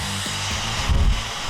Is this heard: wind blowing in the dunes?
no